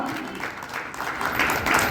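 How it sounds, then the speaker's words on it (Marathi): An audience claps at a Marathi award ceremony honouring women and newly elected councillors, a brief burst of steady, moderately loud applause that swells slightly toward the end. "जोरदार टाळ्या वाजवा"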